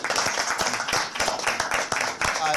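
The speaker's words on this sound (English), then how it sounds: "we applaud you" A small group at an oversight committee meeting claps for Ms. Roberts, brisk and fairly close, with individual hand claps standing out in an uneven rhythm and voices murmuring underneath.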